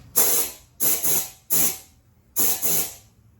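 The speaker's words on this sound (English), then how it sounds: "So I have the air compressor charged up, and I'm just going to show you real quick how that's going to work" Four sharp bursts of compressed air hiss out of an air compressor through a Halloween candy chute, each blast lasting about half a second, the second and fourth doubled, with short quiet gaps between.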